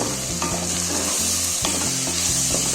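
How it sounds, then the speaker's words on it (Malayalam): Raw mango pickle mixture with salt being sautéed and stirred in a pan, a continuous loud sizzle with repeated scraping strokes of the spoon at a steady rhythm, close and without speech. "അപ്പൊ ഉപ്പൊക്കെ ഇട്ട് കൊടുത്ത് നന്നായിട്ട് വഴറ്റി കൊടുത്തിട്ടുണ്ട്."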